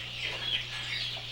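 Battery chickens in an intensive poultry farm, a crowded chorus of soft clucks and chirps over a steady low mechanical hum, fairly faint and continuous.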